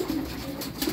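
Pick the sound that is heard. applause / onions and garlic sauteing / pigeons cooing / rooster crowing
pigeons cooing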